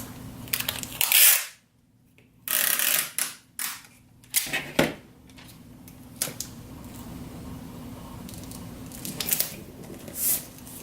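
Packing tape is dragged across an upturned box to make one long seal, giving several loud, close, ripping bursts with short pauses and softer handling noises between them.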